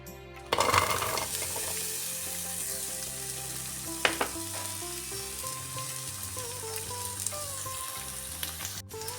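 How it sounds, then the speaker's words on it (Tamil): Onions dropped into hot oil for a Japanese curry start a loud, steady sizzle that holds throughout, with a few utensil knocks and clinks over the frying. "இப்போ எண்ணெய் கொதிச்சோன்னா வெங்காயத்தை போடுவேன்."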